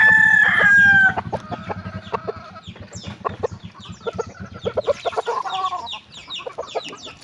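Chickens being bathed on a hot day, with a rooster crowing loudly up close at the start, followed by a series of clucks and short squawks from the birds.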